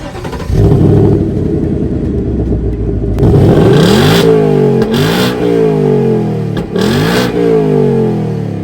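A 2024 Ford Mustang GT's 5-liter naturally aspirated V8 idles with a deep rumble, then revs sharply three times, each loud blip rising and falling back to a throaty idle.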